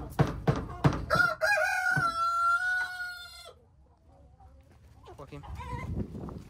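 Hens in a backyard chicken coop cluck and call close by, with a drawn-out squawking cry in the middle and a person speaking near the end.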